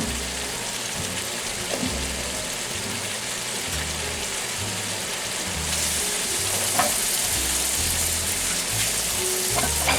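Poblano peppers, yellow onion and potatoes fry in a skillet with a steady, dense sizzle that runs the whole time, a few faint clinks of a utensil poking through and a slight rise in intensity partway through.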